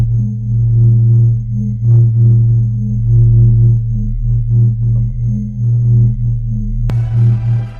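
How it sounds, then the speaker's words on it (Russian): A sonification of the Sun is a deep, humming drone of layered low tones that swell and pulse unevenly, ending in a sudden brighter crackling burst, with no speech. "Так звучит Солнце"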